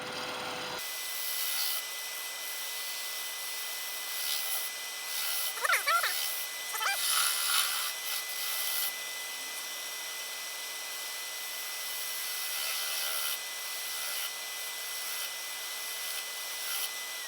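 A knife carves wood for a small carved flower, cut left-handed. Soft scraping and rasping strokes come close and fairly quiet, in bursts over a steady background hum, with faint talking at times.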